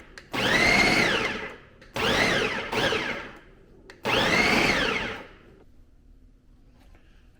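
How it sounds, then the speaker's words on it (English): A food processor set to low, chopping suet into crumbly chunks, running in three motor bursts of about a second or two each with brief pauses between, the last one trailing off into quiet. "we can throw it into the food processor. I'm just going to turn the power on, and I'm just going to put this on low."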